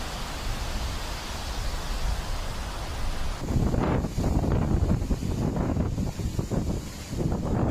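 Strong wind gusts during a storm in Zhengzhou, Henan, roar as a continuous loud rush, which grows heavier and more turbulent partway through and buffets the microphone.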